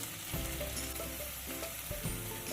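Egg bhurji with salt sautéing in a pan, a loud, steady sizzle broken by the scrape of a spatula stirring the eggs at intervals.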